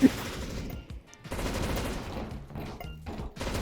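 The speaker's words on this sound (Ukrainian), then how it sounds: "А по ньому зараз турель нашмалює." An automated turret fires in the CS:GO Danger Zone battle royale mode, a sustained stream of rapid gunfire with a brief pause, fairly loud and continuous across the moment.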